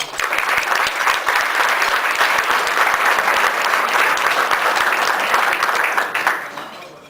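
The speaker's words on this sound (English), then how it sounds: "please give a nice, warm Rapid City welcome to Bill Harlan." An audience at a lunch presentation in Rapid City applauds to welcome a speaker, with steady, dense clapping from a sizable crowd lasting several seconds and tapering off at the end, with no voices over it.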